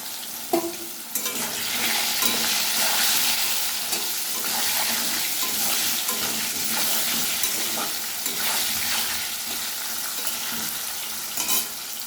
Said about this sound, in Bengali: আমার আলুটা লাল লাল করে ভাজা হয়ে গেছে